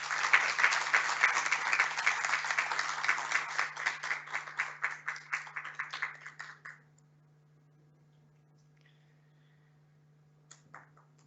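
Audience at an award ceremony for thesis prizes breaks into brisk applause that thins into a few scattered claps and stops after about seven seconds. Near silence follows, with a couple of faint taps at the end.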